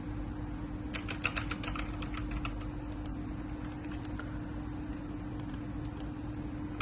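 Rapid clicking keystrokes on a computer keyboard, irregular bursts of taps over a constant low mechanical hum, close and moderately loud with no talking.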